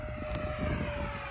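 An FMS P-47 Razorback RC warbird with a 1500 mm wingspan flies past under a gray sky, and its propeller motor gives a steady, fairly loud drone with no voices.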